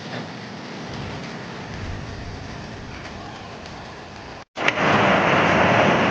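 Waterfall pouring down in heavy rain, a dense continuous roar of rushing water that swells sharply louder after a brief cut, steady and close, with no voices.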